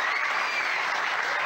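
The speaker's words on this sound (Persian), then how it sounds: "تشویقش کنین آقا" A studio audience on a game show breaks into brief, dense applause, a steady wash of clapping from a crowd.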